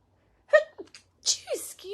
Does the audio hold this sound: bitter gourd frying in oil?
no